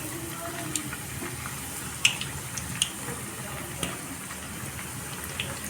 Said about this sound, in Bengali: তো ডুবো তেলে আমি পিঠাগুলো ভেজে নেব এক এক করে।